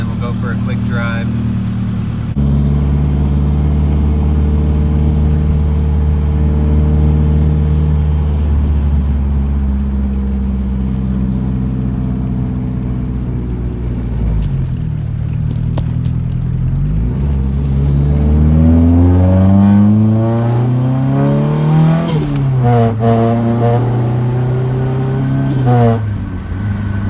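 A Nissan 240SX with an exhaust problem runs steadily through warm-up and a short test drive, its engine drone holding low before rising and falling through several revs and gear changes, loud and close throughout.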